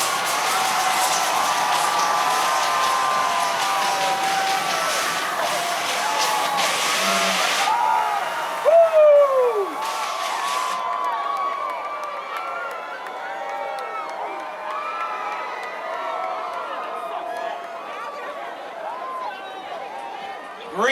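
Large crowd at the 2021 national championship celebration parade for the Baylor men's basketball team, with continuous dense roaring and cheering, whistles and scattered clapping, while an announcer speaks over the noise through loudspeakers.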